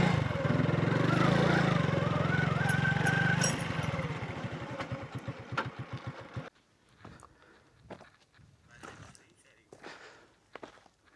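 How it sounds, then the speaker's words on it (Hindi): A motorcycle idles close by on a road near the Kirthar Hills outside Karachi, a loud, steady low rumble with even pulses for about six seconds. It then cuts off, leaving quiet outdoor sounds and scattered footsteps. "यहीं बाइक रोक देते हैं।"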